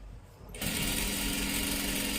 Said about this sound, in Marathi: परत एकदा एकदम कडेकडेला इथं शिलाई मारून घ्यायची आहे